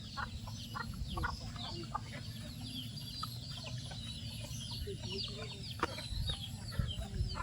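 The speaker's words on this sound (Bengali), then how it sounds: "তিনটা মুরগির ছাও, এই একটা আর এই যে একটা, সবই আমার চাষি" Chickens and young chicks in a rural village yard, clucking and peeping in scattered short calls over a steady low outdoor rumble, with no talk.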